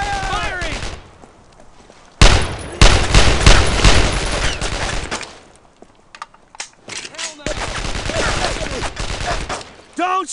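Gunfire in the World War II shooter Brothers In Arms: Road to Hill 30 crackles as dense rifle and machine-gun volleys, loud and sustained, with soldiers shouting orders in between.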